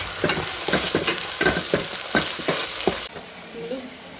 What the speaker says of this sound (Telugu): ఈ అల్లం వెల్లుల్లి పేస్ట్ పచ్చివాసన పోయే వరకు ఫ్రై చేసుకోవాలి